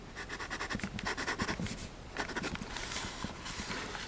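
A Sailor 1911 Realo fountain pen with a 14 karat medium nib writing on paper, rhythmic close scratchy strokes coming in bursts with short pauses between words.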